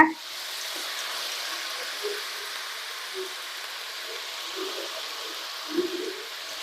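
Tomatoes with salt sautéing in a pan give a steady, soft sizzle throughout, with a few faint stirring knocks along the way and no talk.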